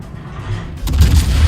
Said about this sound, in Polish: Cały czas ma wieże skierowane i oddaje strzał w ciemno.